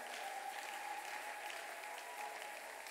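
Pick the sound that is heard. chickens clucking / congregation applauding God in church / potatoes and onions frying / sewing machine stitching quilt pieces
congregation applauding God in church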